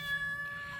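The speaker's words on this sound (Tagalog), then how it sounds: "Ito po yung pusa namin" A short, soft meow from a pet cat on a farm, a single faint tonal cry heard alone against a quiet background.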